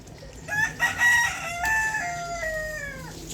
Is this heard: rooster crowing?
yes